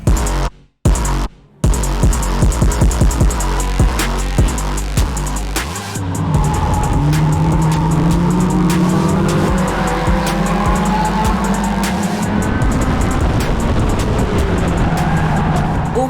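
A race car driven hard, its loud engine roaring and shifting while the tires squeal and skid through corners, continuous and close with no voices.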